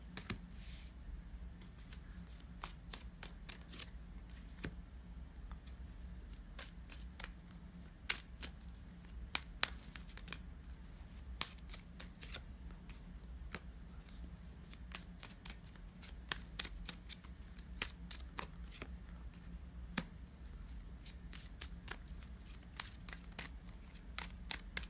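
Tarot and oracle cards being shuffled by hand, a long run of crisp riffling and flicking snaps repeating in irregular bursts over a low steady hum, close and fairly quiet, with no talking.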